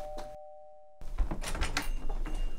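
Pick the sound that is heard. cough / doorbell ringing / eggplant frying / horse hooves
doorbell ringing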